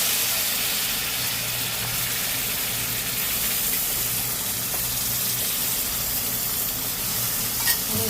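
Mutton masala sautéing in a pan for a dry mutton dish, a steady close sizzle with stirring scrapes running throughout, no voices.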